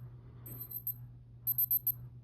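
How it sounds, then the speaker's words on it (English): A digital timer alarm on a Casio G-Shock GD-B500S watch beeps in two clusters of rapid high-pitched chirps, thin and fairly faint over a low steady hum, with no one speaking. "Oh, that's the timer going off, my bad."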